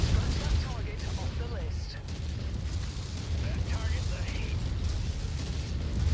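Dense, continuous rumble of missile explosions in the MechWarrior 5 mech combat game, booming blasts piling on each other with mechanical clatter over a steady low roar.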